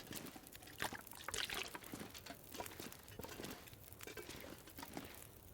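Water poured into a container in The Long Dark survival game, an uneven trickling and splashing stream with soft irregular bursts, close and moderately quiet, heard alone.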